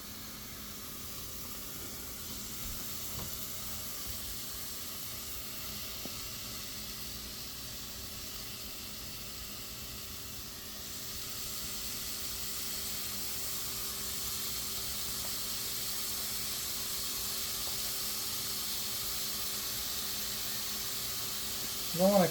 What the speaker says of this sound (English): The pan is hot, so we're going to just lay it straight down. You can hear that sizzle.